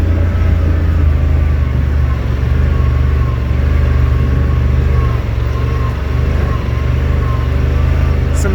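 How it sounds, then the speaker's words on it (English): A Yamaha RMAX 1000 engine runs in crawl mode, a loud, steady, close low drone with a faint rising whine as the revs climb, heard throughout without clear pauses. "You can hear the RPM shift up as well."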